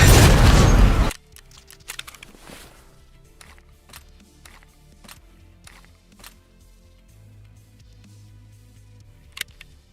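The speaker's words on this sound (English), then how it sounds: "Felt pretty good shooting that RPK for about, 5 seconds" An RPK machine gun fires in the video game Escape from Tarkov, a loud dense burst lasting about a second, followed by quiet shuffling, footsteps and faint scattered clicks.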